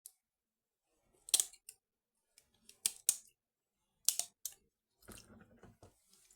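Sharp snips of cutters clipping supports off a resin 3D print, a few isolated close clicks spaced apart, with small pieces skittering at the end.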